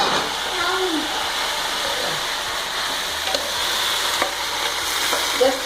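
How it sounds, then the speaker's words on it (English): Rice sizzles and fries steadily in a hot pan for beef biryani, close up, with occasional scraping as it is stirred. "Just we will fry for few minutes"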